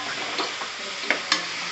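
Tomatoes added to onions with ginger-garlic paste and stir-fried in a pan for tomato rice, giving a steady close sizzle with a few soft scraping stirs and clinks.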